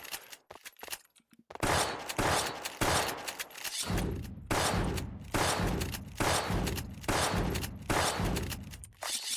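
Rapid gunshots in the game Gunz The Duel, a string of loud, sharp bursts repeating in a quick irregular rhythm after a brief quieter opening, close and dominant with no talk over them.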